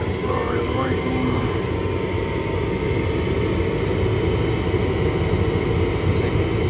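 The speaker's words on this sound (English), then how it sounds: "Let's turn on the furnace to check if it works. So the blower is working." A home furnace blower runs with a constant, even whooshing rush of air, a steady broadband drone that holds without change from start to finish.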